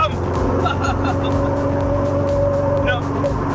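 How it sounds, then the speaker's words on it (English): A homemade DIY open car with no roof or doors drives along a road, its exhaust giving a steady, loud, continuous engine drone throughout, with brief higher tones and some background road noise. "What I do love though is the noise from the exhaust"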